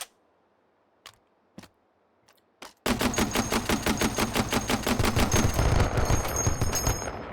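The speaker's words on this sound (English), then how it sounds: "this is a fully automatic emplacement grenade launcher." A fully automatic emplacement grenade launcher fires in the VR shooter H3VR: a few isolated clicks and thumps first, then a loud, rapid continuous burst of heavy shots that carries on for several seconds.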